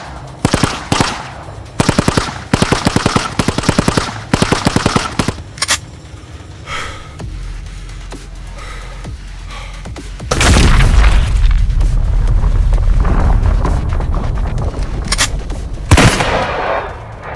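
Powerful weapon fire in an anime battle: bursts of rapid automatic shots in the opening seconds, then a sustained deep roaring blast with heavy low rumble and a final sharp crack, loud and with no talking.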